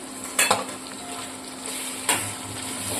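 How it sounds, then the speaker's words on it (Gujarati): Spices sautéing for a mung bean curry, a soft sizzle in the pan with two sharp scrapes of a spoon stirring against the pot, close and fairly quiet. "આ બધી વસ્તુમાં મસાલો ભળે તે સુધી આપણે સાંતરીશું"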